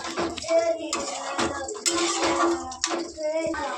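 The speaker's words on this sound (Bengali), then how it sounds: "দেখো এর মধ্যে মশলা ধোয়া বাটি জলটা দিয়ে দেবো।" Water from a rinsed spice bowl is poured into a cooking pan, giving splashy, sloshing bursts with clinks of metal utensils against the pan, close and fairly loud throughout.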